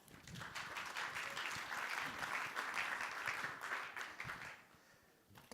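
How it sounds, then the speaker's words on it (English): Fairly quiet applause from an audience for a speaker at a startup pitching event, sustained clapping for several seconds that thins out toward the end. "So please, big round of applause for Jan."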